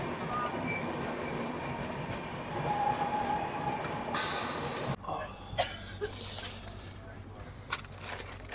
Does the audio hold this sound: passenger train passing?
yes